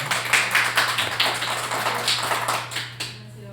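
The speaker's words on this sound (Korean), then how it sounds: "우리 다시 한번 크게 박수를 한번." Audience clapping at a church gathering after a gayageum music performance, with dense overlapping hand claps continuing for several seconds before tapering off, close and moderately loud.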